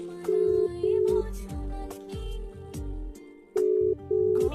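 A phone ringback tone repeats in steady paired bursts, with low thumping noises in between and no talking.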